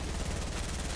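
Rapid, dense gunfire from a Fortnite match, a steady stream of close automatic shots filling the whole moment without pause.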